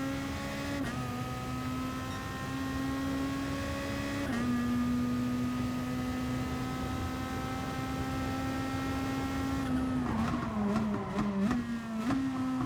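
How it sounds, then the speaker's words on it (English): Race car engine in GT Sport held against the rev limiter, a loud steady drone with a constant pitch, then a brief gear change and a burst of stuttering cut-outs near the end. "you're hitting the rev limiter right there"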